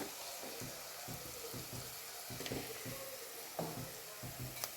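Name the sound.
stirring curry with cinnamon and turmeric in a sizzling pan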